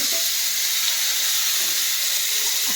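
Vegetables fry in hot oil, giving a steady, loud, broad sizzle that fills the moment without pause and with no voices over it.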